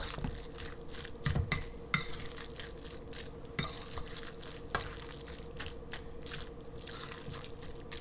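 A spoon stirring salmon croquette mixture with raw eggs and seasoning in a bowl, soft repeated scraping and wet squelching with a few sharper clinks against the dish, steady and close.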